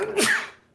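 A single short, sharp human sneeze bursts out alone during a podcast recording and fades away within a second.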